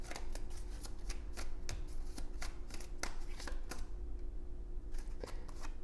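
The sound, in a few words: drawing tarot cards from a deck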